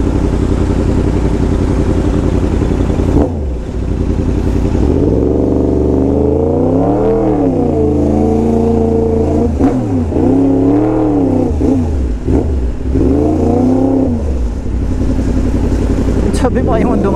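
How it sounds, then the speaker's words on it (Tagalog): A Yamaha MT-10 motorcycle's loud exhaust while riding in traffic, a deep rumbling note that swells and falls through a few rev surges, close and continuous, with people talking over it. "Ang lakas, grabe, ang lakas ng tambutso."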